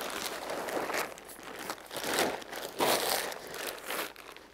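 A nylon tent being folded in half, with continuous crinkling and rustling of the fabric close by, swelling in waves as it is pressed and handled, no talk.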